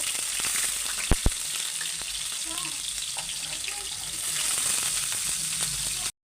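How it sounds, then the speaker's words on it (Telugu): Onions dropped into hot oil for a mutton gravy curry, a loud, steady sizzle with a couple of sharp knocks near the start, running continuously close-up until it cuts off abruptly. "ఆయిల్ కూడా వేడైంది ఉల్లిగడ్డలు వేసుకుంటున్నా"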